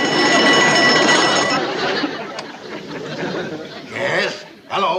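An old party-line telephone gives one long ring, a bright bell tone over the first second and a half, mixed with audience laughter and chatter that continues after the ring stops.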